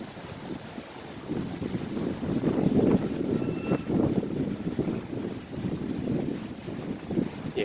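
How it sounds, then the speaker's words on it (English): Strong wind blows sand outdoors in cold weather, a steady rushing roar with buffeting gusts and heavy wind noise on the microphone. "Yeah, the sand is blown by the wind"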